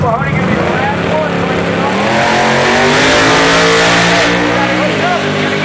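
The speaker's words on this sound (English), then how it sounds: "I got the fastest drag radial nitrous car in the world coming up to make a test run here." A nitrous-fed drag radial race car roars hard down the strip at a drag racing event, loud and close, pitch climbing through gear changes, with an announcer talking over the engine.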